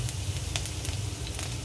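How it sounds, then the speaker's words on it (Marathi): Ginger, chili and garlic frying in hot oil in a home kitchen, a steady, close crackling sizzle with sharp pops scattered throughout. "तेल गरम झाल्यावर त्याच्यात आपण टाकणार आहोत आलं"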